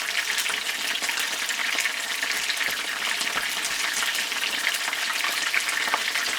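Burbot fish frying in a pan gives a steady, close, even sizzle with faint crackles throughout, with no voices.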